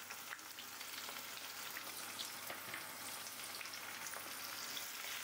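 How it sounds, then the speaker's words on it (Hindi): Onions sizzle and crackle steadily in a hot pan, a soft continuous frying hiss with small pops and no voices. "प्याज को अब हम फ्राई करेंगे 4 से 5 मिनट"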